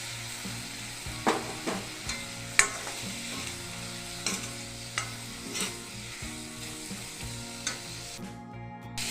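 Brinjal and dried fish ingredients fry in a pan, a steady close sizzle with repeated stirring scrapes and sharp utensil knocks, no voices, cutting off near the end.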